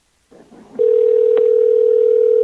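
A loud, continuous telephone dial tone starts after a moment of faint background noise during a remote council meeting's phone call, holding steady to the end with no speech over it.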